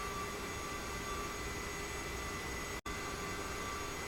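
An Aerosoft CRJ-700 jet taxiing toward the runway in Microsoft Flight Simulator, a steady engine whine and hum with a brief dropout partway through.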